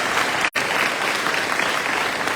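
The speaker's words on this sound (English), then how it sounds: "let's give your families a big round of applause and thank them" Dense, steady clapping from a large crowd at a Port Isabel High School athletic banquet, applauding students' families, continuing throughout apart from one brief dropout near the start.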